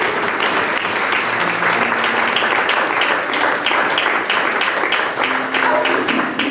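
A church congregation applauds in sustained, dense clapping that stays loud and close, with voices mixed into the crowd noise.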